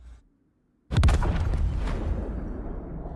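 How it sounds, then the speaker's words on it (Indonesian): A sudden loud blast from a film scene bursts out of near silence, followed by a sustained roaring, crackling rumble that slowly fades over a few seconds. "tiba-tiba ledakan pun terjadi"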